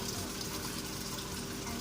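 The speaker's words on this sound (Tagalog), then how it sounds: "Galing sa bundok yung water." Spring water running down from a mountain, a steady broadband gush and splash that holds without a break for the whole moment, close and continuous with no voices over it.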